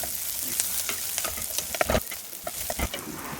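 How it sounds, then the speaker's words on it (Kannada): Green chillies added to sautéed onions in a pan sizzle softly while a spoon scrapes and stirs in irregular clatters, close-up, with no voices. "ಈ ಸಂದರ್ಭದಲ್ಲಿ ಹಸಿಮೆಣಸು ಇದನ್ನು ಹಾಕಿ ಸ್ವಲ್ಪ ತಿರುಗಿಸಿದ ಕೂಡಲೇ"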